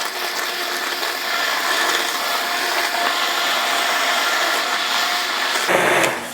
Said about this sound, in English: I have a stick blender